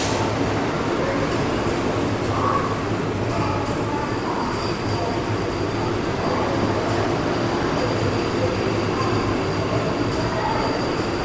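A train departs Kazipet junction with a continuous, loud rumble of rolling wheels and a steady drone. A high squeal holds throughout, with faint clicks of passing rail joints.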